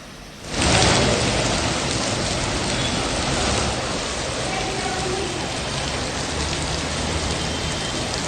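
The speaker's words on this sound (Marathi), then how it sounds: "तर आपण पाहतोय कोल्हापुरात मुसळधार पाऊस पडतोय" Heavy rain in Kolhapur starts abruptly and pours down steadily, a dense, loud roar of drops on surfaces that continues without a break.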